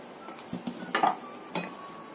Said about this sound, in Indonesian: Kita aduk sebentar.